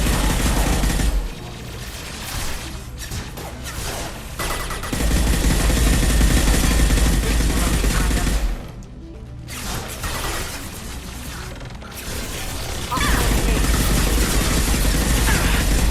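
Gunfire from the video game Mass Effect 2 forms a loud, dense barrage of shots and impacts. It runs almost continuously, dropping off briefly twice.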